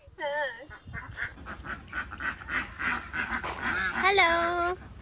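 A flock of geese honks and calls close by near a boat, with harsh, rising honks in a rapid, overlapping chorus that swells louder toward the end.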